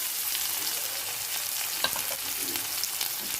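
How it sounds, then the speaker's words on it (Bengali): Sliced onions frying in oil in a wok give a steady, close hiss of sizzling that runs throughout, with a few soft clicks of stirring and no voices. "কড়াইয়ে দিয়ে দিলাম পেঁয়াজ"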